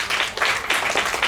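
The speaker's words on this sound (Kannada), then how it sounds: "ಜೋರಾಗಿ ಚಪ್ಪಾಳೆ ಬರಲಿ ರಾಜೇಶ್ವರಿ ಮೇಡಮ್ ಅವರಿಗೆ" Audience applause at a music concert, a steady burst of many hands clapping with slightly pulsing rhythm, close and fairly loud, with no speech over it.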